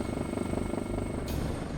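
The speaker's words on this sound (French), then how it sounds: "L'hélicoptère continue donc de survoler le bateau" Helicopter rotors beat in a steady, continuous drone as the aircraft circles over a boat suspected of carrying drug traffickers off the Caribbean coast, loud and close throughout the short stretch.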